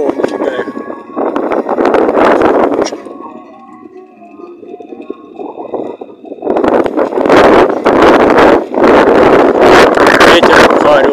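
Heavy wind buffets the microphone while cycling, roaring in loud bursts that ease briefly in the middle before returning strongly.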